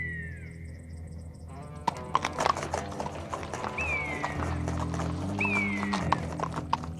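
Cartoon horses clip-clop and gallop off in a Lucky Luke western episode, with hoofbeats clattering and a couple of sharp whinnies over the run.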